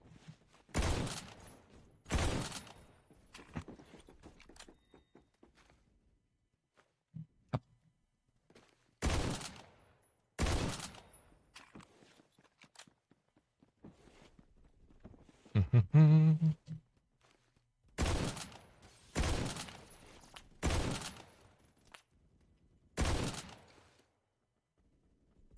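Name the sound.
Mosin rifle blind fire in video game Phantom Forces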